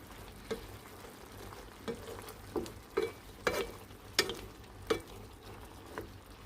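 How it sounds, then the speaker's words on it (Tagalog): A pan of chicken stew with carrots and potatoes being stirred, each sweep of the spoon giving a short scraping knock about every second over a steady low simmer. "Haluin na lang muna natin siya."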